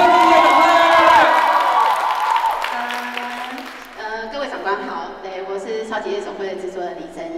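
Audience applause and cheering ring out at a Sanlih TV Golden Bell Awards nomination event, a loud dense crowd roar for the first few seconds that gives way to music.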